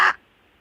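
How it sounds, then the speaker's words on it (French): A single crow caw, harsh and loud, cuts off abruptly and is followed by near silence; it is a recording played over a telephone line. "Ça, c'est la voix d'un corbeau."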